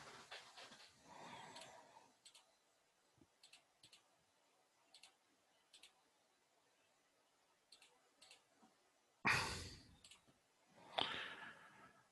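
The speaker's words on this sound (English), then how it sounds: "So I'm now going to be typing in some elements here." Scattered keystrokes on a computer keyboard as data is entered during a PTA training session: faint, isolated clicks spaced a second or so apart, with a few louder rustling bursts near the start and end.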